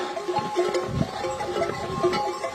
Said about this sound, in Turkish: Koyunlar buldukları bütün yeşilliklere saldırıyorlar yol kenarında